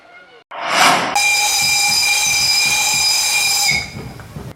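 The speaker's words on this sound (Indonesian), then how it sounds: "Dengan dioperasikan kembali kereta api Maitam di Sawah Lunto, menambah satu lagi wahana wisata di Sumatera Barat." Historic Mak Itam steam train running in Sawahlunto, West Sumatra, with a loud close steam whistle blast sustained for about three seconds after a burst of hissing steam, then fading to rumble.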